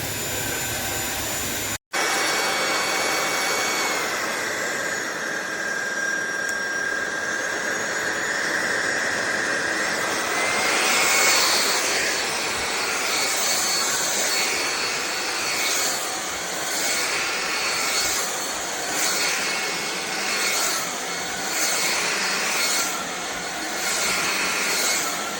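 A SunSare 600W cordless stick vacuum cleaner runs steadily with a loud, continuous whine and airy roar that shifts slightly in pitch partway through, with no talking.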